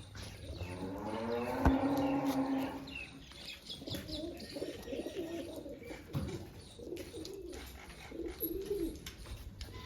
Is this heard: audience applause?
no